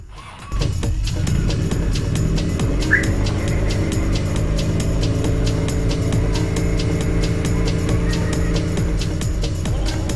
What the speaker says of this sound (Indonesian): mobil bisa di start dari jauh. Dalam waktu 4 detik mobil akan menyala.